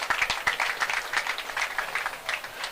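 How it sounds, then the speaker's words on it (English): Audience applause at a football cup final, the Prosperity Cup final between Akinima/Biogbo and Okoroma United: a steady, moderately close wash of many hands clapping, with dense crackling claps sustained throughout. "Please clap for yourselves."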